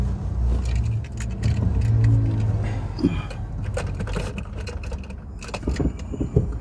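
Keys jangle beside a car being started, with a low engine rumble through the first seconds and clicks and rattles of handling keys toward the end, close and fairly loud.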